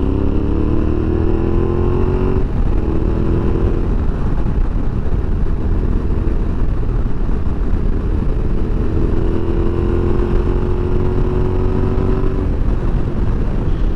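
A Yamaha Tenere 700 motorcycle with an ECU tune rides along with a smooth, continuous engine drone that rises steadily in pitch as it accelerates, loud and close under heavy wind rumble, with no voices.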